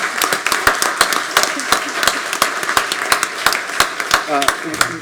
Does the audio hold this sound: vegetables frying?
no